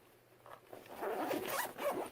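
A zipper runs along a backpack packed with Nerf dart magazines, a quiet rasping pull building over about a second and a half, close and alone.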